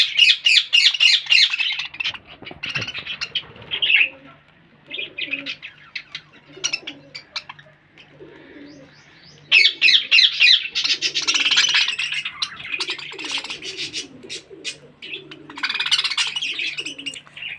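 Pigeons and parrots calling nearby: loud squawks and chattering in repeated bursts, mixed with soft low cooing in the quieter stretches.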